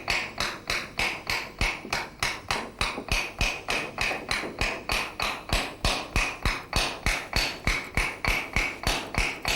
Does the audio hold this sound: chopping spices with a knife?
yes